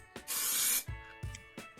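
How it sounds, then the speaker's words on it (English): Spray can applying clear coat to a fishing lure: one strong close hiss lasting about half a second, followed by a few soft knocks and rattles from handling the can. "I used a spray can, it's good enough."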